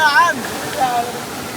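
Water pours out steadily in a continuous broadband rush, heard outdoors with people talking over it.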